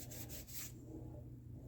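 Sandpaper rubs back and forth over oxidized metal on an ATC200x three-wheeler part, a few quick close scratchy strokes followed by a low, quiet hum.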